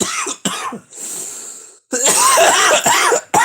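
Several harsh coughs in quick succession, loud and close, with a short raspy breath in the middle and more sharp coughs after.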